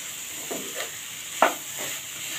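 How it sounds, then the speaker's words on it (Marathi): Grated coconut and jaggery stirred together in a hot pan for a Konkan patoli filling, giving a few soft scraping strokes over a faint steady sizzle, close and alone. "नारळ आणि गूळ एकजीव करून घ्यायचं आहे, मिक्स करून घ्यायचं आहे।"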